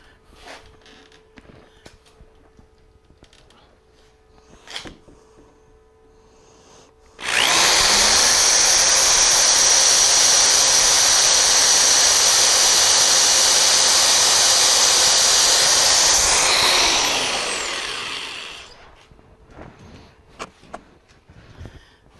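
A power drill bores holes through metal hinges on angle iron for a coin pusher machine, a loud steady whine running about eleven seconds before spinning down, with quiet shop noise before and after.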